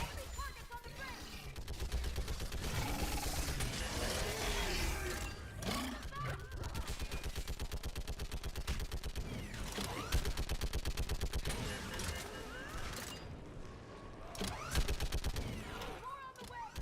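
Mounted gun firing nonstop in Mass Effect Legendary Edition combat, dense rapid bursts of gunfire with explosions and battle noise, loud and continuous, with speech mixed in.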